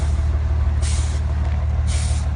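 A truck rumbles steadily nearby while its air brakes give two sharp, loud hisses in quick succession over the low engine drone.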